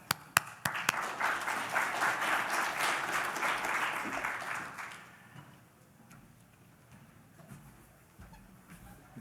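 Audience applause welcoming a speaker onto a stage at a mining industry AI conference, a dense crowd clapping for about five seconds before fading to scattered claps and room murmur.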